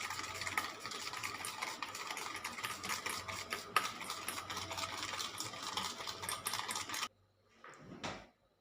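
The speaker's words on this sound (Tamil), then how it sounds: "இப்போ இது ரெண்டையுமே நல்லா கலந்து விட்டுக்கலாம்" Ghee being stirred into custard biscuit dough in a bowl: a steady run of quick scraping, clicking strokes for about seven seconds, then a short pause and one last brief scrape.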